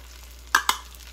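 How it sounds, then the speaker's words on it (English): Garlic, breadcrumbs, chives and parsley toast in a pan for a mac and cheese topping, a faint low crackle broken by two sharp scrapes of a spoon against the pan. "You want to stir it and cook the breadcrumbs until they're toasted, about 5 minutes."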